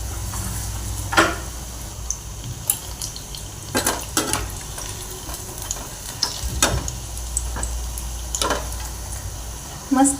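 Green chili fritters (mirchi bhaji), slit chilies in gram-flour batter, frying in hot oil, with a steady low sizzle under scattered sharp clinks and scrapes of a utensil against the pan.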